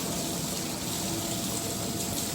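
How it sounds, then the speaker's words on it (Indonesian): Waterfall splashing inside a cave-like enclosure at a zoo, a steady, dense broadband rush of falling water that fills the whole clip at close range with no pauses. "Ini air terjun deh."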